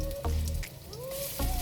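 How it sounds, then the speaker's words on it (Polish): Grated potato pancake batter sizzles and crackles in a strongly preheated frying pan, a steady close frying hiss with brief scraping touches. "Z jednej strony już się tutaj praktycznie rzecz biorąc on podsmażył."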